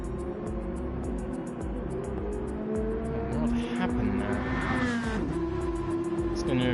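Race cars in Gran Turismo 7 during an oval race at Northern Isle, a steady droning engine roar with several overlapping cars, one pitch sweeping up and down as it passes close by.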